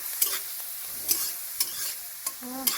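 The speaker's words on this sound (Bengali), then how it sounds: "রসুনের সাথে খুব ভালো করে সেই আদাটাকেও ভেজে নিচ্ছি" Chopped ginger and garlic fry together in a pan, giving a soft, steady sizzle broken by several sharp scrapes and clinks of a spoon stirring, fairly quiet and close.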